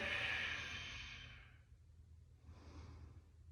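Slow, deep breathing during a yin yoga stretch: a long breathy exhale that fades away, a pause, then a softer second breath, close and quiet with no talking.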